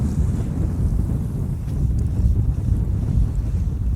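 Wind blows steadily across the Carron Valley Reservoir shore during early-season trout fishing, a constant low roar and microphone buffeting, loud and close, with no voices.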